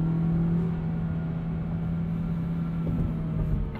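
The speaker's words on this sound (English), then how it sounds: "4-cylinder scream" A 2020 Hyundai Venue SEL four-cylinder engine drones steadily at high revs, a strong constant hum with a slight rise near the end, no voices.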